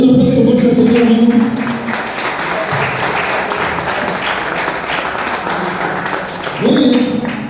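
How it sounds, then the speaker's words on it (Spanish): A church congregation claps loudly and steadily for the Lord during a Spanish-language service, a dense wash of hands that fades somewhat midway, then surges again near the end, with voices mixed in. "Denle un aplauso fuerte al Señor, hermano."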